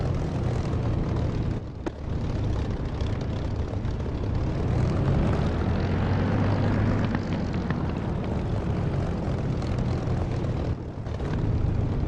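A simulated aircraft engine in the DCS flight simulator drones loud and steady, swelling as the plane rolls for takeoff, with a brief dip near two seconds and another near eleven.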